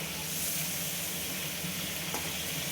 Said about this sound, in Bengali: চিংড়ি মাছ বেশি ভাজলে শক্ত হয়ে যায়, এই জন্য আমি একটু অল্প ভেজে নিলাম।